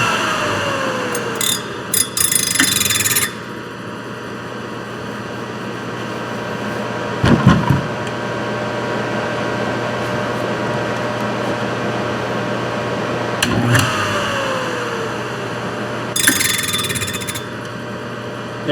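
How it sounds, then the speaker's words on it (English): A Thorvie AV-40 grinder hums steadily while lightly sharpening the carbide teeth of a saw blade. A few brief gritty bursts of grinding contact rise over the constant motor drone, with short clunks between them and no talking. "And I'm just going to do a nice light grind."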